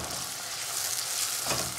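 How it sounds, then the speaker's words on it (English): Onions and curry leaves fry in a pan with a loud, dense, continuous sizzle that holds evenly from start to finish, close up and with no talk. "fry the onions till it goes brown. Add some curry leaves"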